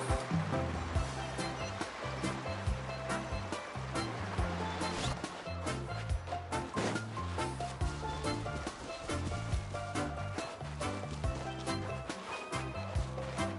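Boat carving through ocean waves in the Genshin Impact video game, a constant rushing wash of water with splashy bursts and game sound layered over it, moderately loud throughout.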